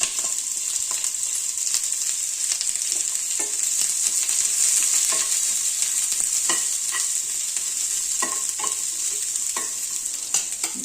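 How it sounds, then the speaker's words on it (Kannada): Onions frying in a pan for sprouted moong vegetable sambar, a loud, steady bright sizzle throughout with frequent scraping clicks of a spoon stirring against the pan. "ಈರುಳ್ಳಿ ಹಾಕ್ಕೊಂಡು ಸ್ವಲ್ಪ ಹುರ್ಕೊತೀನಿ"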